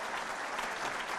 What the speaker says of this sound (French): Oui, vous pouvez l'applaudir.